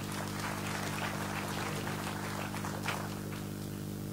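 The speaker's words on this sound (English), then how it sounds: "Let's clap for her." A church audience at a Lagos revival service applauds a woman, a dense, continuous patter of many hands held at an even level over a low droning hum.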